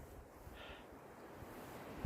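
Wind blows through a forest in steady, rumbling gusts that buffet the microphone, with a brief higher hiss partway through and no voices.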